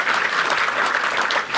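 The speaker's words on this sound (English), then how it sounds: "Perhaps if we can just have a round of applause for the panel." An audience at an agriculture and elections panel discussion gives a round of applause, with dense, even clapping filling the room throughout.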